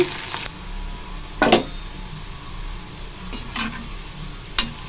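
Okra frying in a pan of oil over a low flame, a steady soft sizzle broken by a few louder stirring scrapes near the start, middle and end, with no voices.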